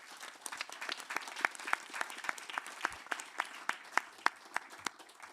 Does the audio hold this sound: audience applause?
yes